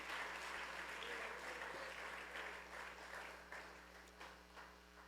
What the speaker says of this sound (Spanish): Alguien déle un aplauso al Señor Jesucristo.